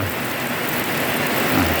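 Steady rain falls through a whole day of flooding, making a dense, even hiss with no voices.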